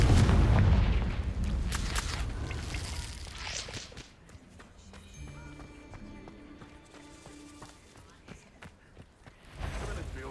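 A Confringo blasting spell explodes in Hogwarts Legacy: a loud, booming burst at the start that rolls on with rumbling debris, then fades into quieter game sounds, with another heavy thump near the end.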